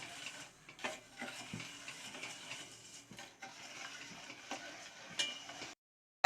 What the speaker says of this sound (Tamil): வெல்லம் நல்லா கொதிக்க ஆரம்பிச்சிருச்சு.